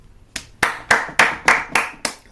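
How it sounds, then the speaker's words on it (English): Seven sharp handclaps ring out in a steady, evenly spaced rhythm, close and loud, with no talking in between. "Clap it up."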